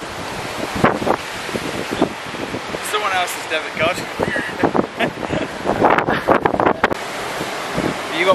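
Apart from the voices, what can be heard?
strong wind blowing by the car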